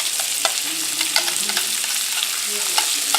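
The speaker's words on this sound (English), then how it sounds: "Let's go ahead and throw some onions in here." Onions sizzling and crackling steadily in a pan of hot olive oil and beef fat, with scattered pops and a few spoon stirs, close and fairly loud with no talking.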